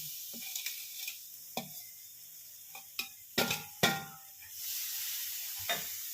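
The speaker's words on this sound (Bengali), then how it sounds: "চলো এবার জোয়ানটা ফ্রাই করে নিই" Ajwain (carom seeds) fry in a pan with a quiet sizzling hiss, broken by sharp clinks and scrapes of a utensil against the pan.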